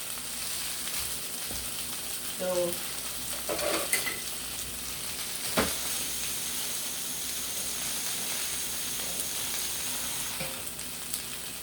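Mixed vegetables for a creamy pasta primavera sizzle steadily in a hot pan, with a few scraping clinks and a brief louder rustle as they are flipped; the frying hiss carries on alone throughout.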